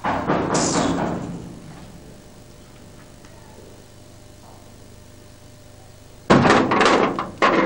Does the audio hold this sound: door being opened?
yes